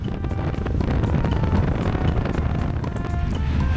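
Cold wind buffeting a microphone while riding along a mountain road, a loud continuous roar with gusty rumble and road noise throughout, no voices.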